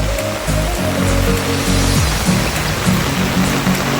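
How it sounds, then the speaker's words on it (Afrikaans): Steady rain beside the Vaal River, a dense, loud hiss filling the whole stretch, with a low motor-like hum running underneath. "Vol reën."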